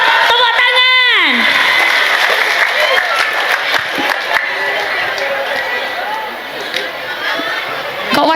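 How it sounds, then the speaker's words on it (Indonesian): An audience at a religious gathering breaks into clapping and cheering, loud at first and then thinning out, with crowd chatter and voices mixed in. "Tepuk tangan."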